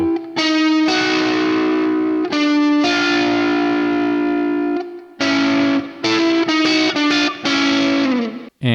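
A distorted electric guitar plays a blues lick with chromatic passing tones sliding down to the third and fifth, coloured by effects and a touch of chorus. Sustained notes ring out in several phrases with short gaps, with no other sound.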